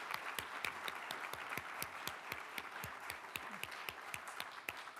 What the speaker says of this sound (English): Audience, let's give our last big round of applause to these awesome future nurse